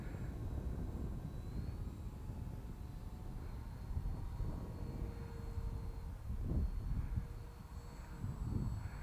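A homemade foam RC plane cut from skip foam flies at half throttle, its motor a faint, steady whine over low wind rumble outdoors.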